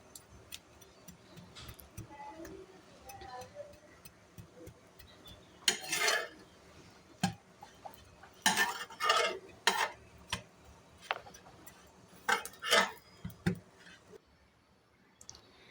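Bread warming over low heat in a pan, heard as quiet scattered clicks and scrapes of turning and flipping, with a few sharper knocks in the middle, no talk.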